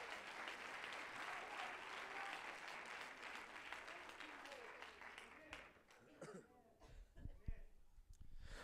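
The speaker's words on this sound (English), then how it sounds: "could you give the Lord one more good hand clap of praise?" A church congregation claps together in a sustained round that thins out and fades, followed by coughing, throat clearing and scattered murmurs.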